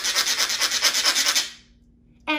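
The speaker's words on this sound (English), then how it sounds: "the baker scrubbed those crumbs into that skin" Dry cake crumbs are scrubbed into a rhinoceros skin, a quick rhythmic rasping rub that lasts about one and a half seconds and then stops abruptly.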